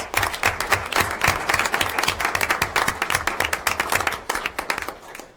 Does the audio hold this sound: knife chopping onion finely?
no